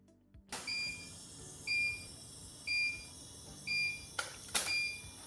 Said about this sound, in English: Ending mode A will immediately vent the steam, sound a beep, and display end.